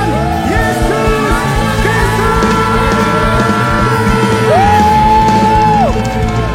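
Congregation whooping, yelling and cheering together during an Ascension Day church service, a dense, loud crowd roar with rising shouts throughout.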